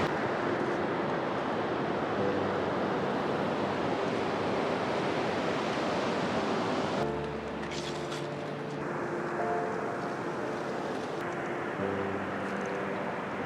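Surf washing onto Hampden Beach on the Otago coast, a steady broadband roar of waves with wind buffeting the microphone, continuous and fairly loud throughout with no talking.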